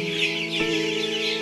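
A dense chorus of tiger chicken chicks peeps and clucks steadily inside a brooding shed with rice-husk litter on a farm in Sylhet, a continuous busy chatter heard close with no talking.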